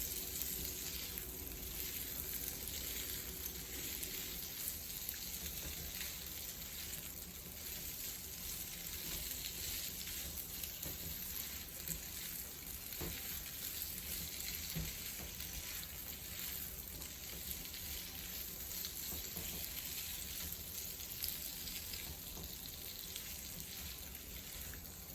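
Potatoes sauté in a pan with a dense, continuous sizzle that holds steady throughout, flecked with faint pops and occasional light stirring.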